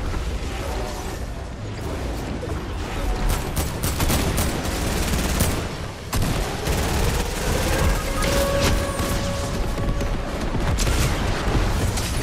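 Airstrike explosions and gunfire in a shooter video game, a steady dense barrage of rapid shots and heavy booms lasting the whole stretch, loud and close with little letup.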